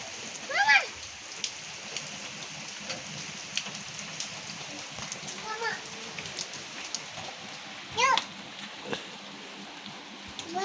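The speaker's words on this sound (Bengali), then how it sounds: "আমার বিবাহবার্ষিকীর দিনে বৃষ্টি।" Rain patters steadily outdoors in a soft, continuous wash of drops, while voices talk and call out intermittently over it.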